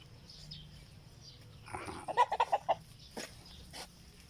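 Chickens being fed chopped banana let out a quick burst of soft clucks, several in a row, over a quiet outdoor background.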